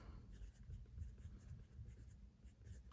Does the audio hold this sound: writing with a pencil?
yes